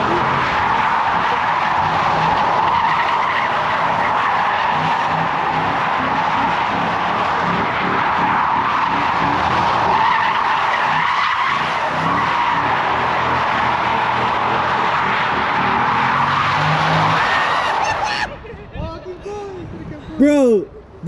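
A six-speed Infiniti G35 sedan does donuts, with loud continuous tire skidding and engine roar for about eighteen seconds before it cuts out, then brief scattered squeals; voices are faint under the noise.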